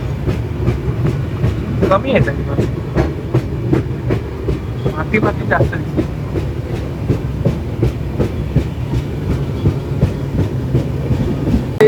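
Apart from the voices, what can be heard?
train arriving at Ratnagiri station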